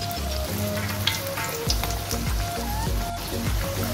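Finger pakoda fry in hot oil with a dense, continuous sizzle and scattered pops and crackles, close and steady throughout.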